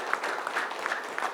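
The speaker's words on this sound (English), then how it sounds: "even a bigger round of applause for him" An audience at a corporate leadership talk gives a round of applause, a moderate, steady patter of many hands at middling distance with no voices over it.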